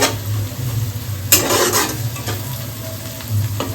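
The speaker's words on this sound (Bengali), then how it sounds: "এই দেখো পেঁয়াজটা আমার মোটামুটি ভাজা ভাজা হয়ে গেছে" Onions sizzle steadily in a hot pan for chicken pulao while a utensil stirs and scrapes through them in a few brisk strokes, close up with no talking.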